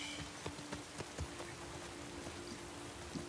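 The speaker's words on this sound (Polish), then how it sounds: "W końcu pada deszcz." Rain falls steadily in The Last of Us Part II, a soft, even hiss with scattered light patters and drips close by, alone without talk.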